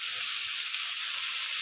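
Potato, red and yellow bell peppers and soya chunks fry in a pan with a dense, even, steady hiss that holds unbroken for the whole stretch, close and with no voices.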